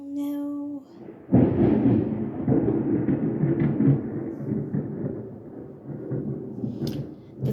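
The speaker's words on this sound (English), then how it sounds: "The thunder is upset for me too, guys." Loud thunder breaks in after a quiet moment and rolls on as a long, heavy rumble that lasts several seconds, fading slightly toward the end.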